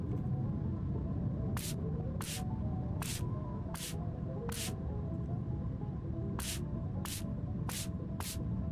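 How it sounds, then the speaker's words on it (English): Spray bottle spritzing in the video game Schedule 1, a series of short sharp hissing puffs at a steady pace, five then four, over a low constant hum. "the spray bottle"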